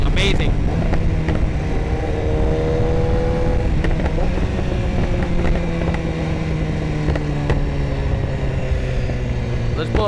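BMW S1000RR motorcycle with a Vandemon full titanium exhaust cruising steadily, its engine note droning and shifting pitch through gear changes, with strong wind buffeting and a voice talking over it.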